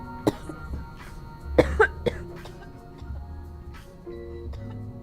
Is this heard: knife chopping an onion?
no